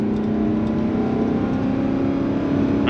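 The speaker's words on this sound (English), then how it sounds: "For the first time in this Crown Vic's history, it sounds like a real V8 car instead of a taxi cab. Has a deep air intake sound." A Ford Crown Victoria LX Sport with a 4.6L two-valve V8 and deep air intake rumbles steadily and close with a low, throaty idle-to-rev drone, no talking over it.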